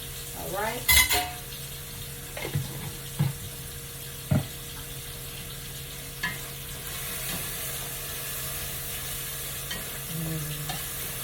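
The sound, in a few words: garlic sizzling in a pan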